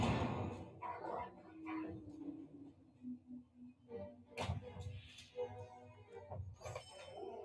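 Dogs in the video game The Lord of the Rings Online bark and yip in short, close bursts, mixed with whimpers and a steady game soundtrack behind them.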